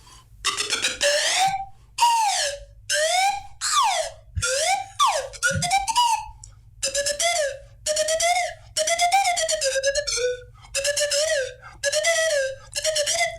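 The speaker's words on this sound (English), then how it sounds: "by squeezing the bulb, the water goes up and down inside the sweet potato." Breathy whistling tones glide up and down in separate squeezed bursts, an improvised melody played by squeezing a turkey baster bulb to move water inside a sweet potato instrument.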